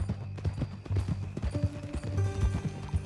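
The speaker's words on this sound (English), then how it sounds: "That new horse?" Horse hooves clip-clopping in Red Dead Redemption 2: a steady, close run of hoof knocks for a few seconds, with no speech over them.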